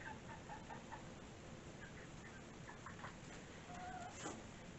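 Chickens clucking in a coop during routine spot cleaning, a low, steady mix of soft clucks and scattered calls sitting over a constant background hiss, no talking.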